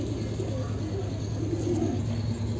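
Madrasi pigeons coo in low, steady murmurs close by, with a continuous soft hum of cooing and faint background noise throughout.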